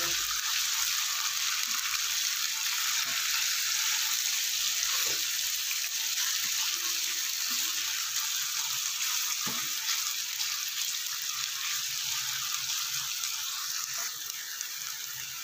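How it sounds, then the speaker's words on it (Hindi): Mutton mince with ginger-garlic paste sizzles steadily in a hot pan, a bright continuous crackle with occasional soft knocks of stirring, no voices. "मटन के कीमन को अच्छे से भून लेना है, अच्छे से फ्राई कर लेना है"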